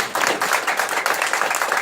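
A comedy club audience at a showcase in Ann Arbor breaks into a burst of applause, dense close clapping from a room full of people, steady and lively for the whole moment.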